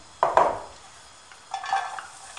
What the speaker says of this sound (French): on va chauffer l'équivalent d'une cuillère à soupe d'huile dans une poêle anti-adhésive et on va faire revenir les oignons